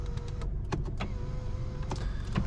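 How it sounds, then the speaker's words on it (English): Electric steering column adjustment motor in a 2017 Mercedes-Benz C200 Coupe, a close steady whirring hum running throughout with small clicks, alone without talk. "this little stumpy one is to move the steering wheel in and out and up and down"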